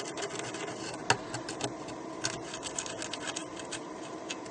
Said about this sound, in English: Let's see if we can get some of this corrosion off.